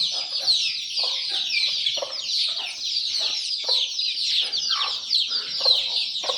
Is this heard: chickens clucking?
yes